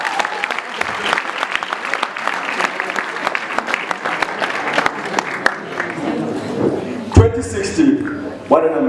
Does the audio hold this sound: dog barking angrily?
no